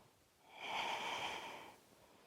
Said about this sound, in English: Deep, full breathing.